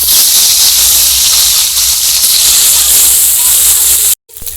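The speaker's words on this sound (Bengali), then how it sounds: "আমি বাকি মাছগুলোও ভেজে নিচ্ছি।" Fish pieces frying in hot oil for a Bengali fish curry give a loud, steady hiss and sizzle that holds evenly, then cuts out abruptly near the end before faint sound returns.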